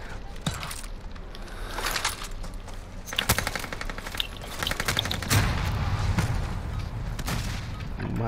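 Rapid rifle and machine gun bursts crack in a Call of Duty: Modern Warfare firefight, dense repeating volleys with a few heavier booms, loud and close throughout, with faint voices underneath.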